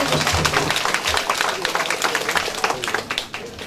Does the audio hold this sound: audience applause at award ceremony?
yes